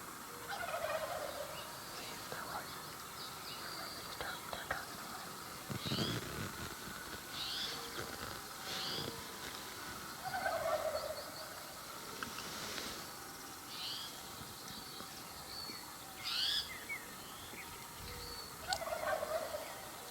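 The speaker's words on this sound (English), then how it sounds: "hopefully he gives us a couple gobbles and gives us a good show for you guys" A wild turkey gobbles from its roost on Wyoming public land, several distinct rattling gobbles spaced out every few seconds and heard from a moderate distance in a quiet outdoor setting.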